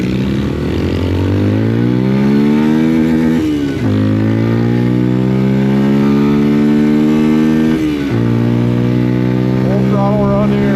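A Papio SS mini motorcycle engine runs at full throttle, its loud, steady whine climbing in pitch through a run of gears, with two brief dips at the shifts before it winds up again.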